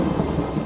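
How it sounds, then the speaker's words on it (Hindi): Rain falls with a loud, deep rolling thunder rumble that fills the whole short moment, steady and close, with no voices. "अरे देखो, बारिश शुरू हो गई।"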